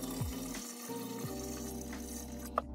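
Water poured from a bucket into a turtle tank, a steady close gushing and trickling stream lasting a few seconds, with a small splash near the end.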